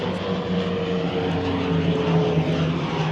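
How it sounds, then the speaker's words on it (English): A propeller airplane drones overhead, a loud steady engine hum with a sustained tonal whine that holds level throughout, no voices. "Goddamn airplanes."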